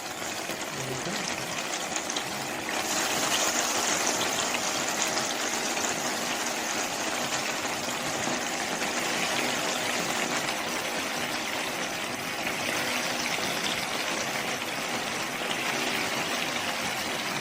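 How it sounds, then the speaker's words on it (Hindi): Chicken drumsticks deep-frying in hot oil: a dense, steady bubbling hiss that holds at an even, moderate level throughout, with no talking. "ऑयल के अंदर डाल के आपने चम्मच नहीं हिलाना, थोड़ी देर से ऐसे फ्राई होने देना।"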